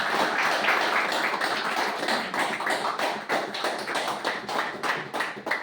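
Loud, sustained applause for new guests at a meeting, a dense wash of many hands clapping close by, continuous for several seconds with no talk over it.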